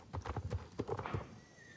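Hooves clip-clop as a horse is ridden in the Star Stable Online video game, a brief run of quick, even hoofbeats heard close and alone.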